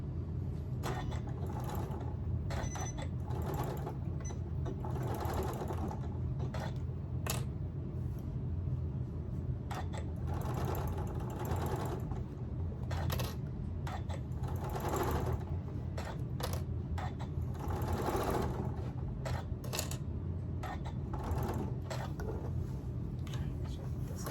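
A sewing machine stitches fabric for a stuffed elephant, making a continuous low mechanical whir and hum with faint clicks and rattles, steady and close throughout.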